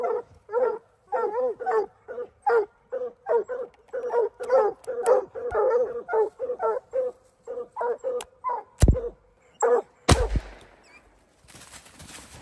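Dogs bark and yip in rapid bursts over a freshly shot possum outdoors on a mountain hunting trip, loud and close, with whimpering between barks and a few sharp thumps near the end.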